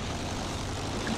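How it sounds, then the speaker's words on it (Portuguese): Enemy propeller airplane flying overhead in Battlefield 1, a steady, broad engine drone that stays loud and even throughout, with no talking. "avião inimigo sobrevoando!"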